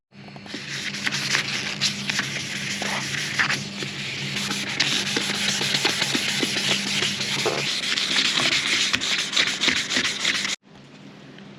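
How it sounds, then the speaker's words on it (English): Wet and dry sandpaper, 1200 to 1500 grit, rubbing over the gelcoat of a Rayglass boat hull, a steady close scratchy swishing with quick repeated strokes that runs continuously for about ten seconds before stopping abruptly. "the old 1200 or 1500 wet and dry sandpaper does a good trick too"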